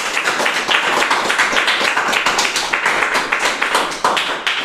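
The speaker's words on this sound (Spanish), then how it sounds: "Dale un aplauso a Jesús." A church congregation applauding, dense continuous clapping from many hands filling the room, loud and close with no talking over it.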